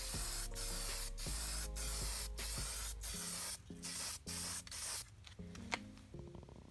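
A spray can mists paint onto an aluminum engine valve cover in repeated bursts of loud, close hissing with short pauses between passes. Constant tonal music plays underneath.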